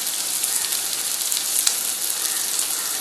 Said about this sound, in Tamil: தக்காளி வந்து நல்லா வதங்கணும் இந்த உருளைக்கிழங்கு வந்து வதங்கி இருக்கட்டும்